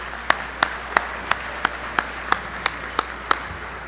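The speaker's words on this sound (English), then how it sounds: "So please, a round of applause." Clapping rings out at an awards ceremony in sharp, evenly spaced claps, about three per second, over a low steady hum. The claps sound sparse rather than like a full crowd.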